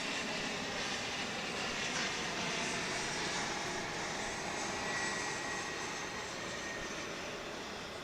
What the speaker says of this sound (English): It's a CRJ 900 ER.